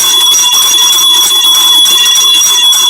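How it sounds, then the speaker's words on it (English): A bell rings continuously at a broadcast or public gathering, its steady high ringing tones sustained loud and unbroken throughout, with no voices over it. "Let me ring the bell"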